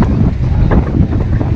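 Strong wind buffets the microphone on a busy tropical beach at Porto de Galinhas, Brazil, a steady loud low roar with gusty swells throughout and no clear voices.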